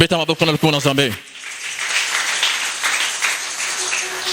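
Church congregation applauding, a dense sustained burst of clapping that follows a brief spoken or chanted phrase and continues steadily to the end.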